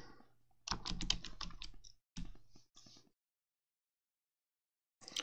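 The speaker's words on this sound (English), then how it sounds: "Where it says New Launcher, we'll click in there and we'll type" Typing on a computer keyboard: a quick run of close key clicks, a short pause, two brief bursts of keystrokes, then silence before a final tap, all fairly quiet with no talking.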